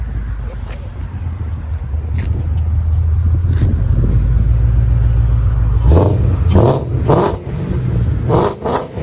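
A 2011 Ford Mustang GT 5.0 Coyote with true dual exhaust, long tube headers and 14-inch Mag mufflers idles with a loud, deep rumble, then gives several sharp throttle blips that rise and fall in quick bursts, close to the microphone.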